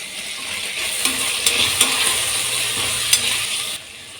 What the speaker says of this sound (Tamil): கொஞ்சம் உப்பு சேர்த்து வதக்கிக்கலாம்